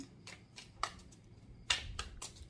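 Tarot cards being shuffled and drawn, with quiet close-up papery riffles and snaps coming in short separate bursts against a near-silent background.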